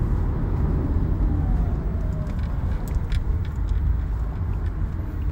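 Car driving through weekday Los Angeles traffic, a steady low road rumble and engine drone that holds at an even loudness throughout, with no voices.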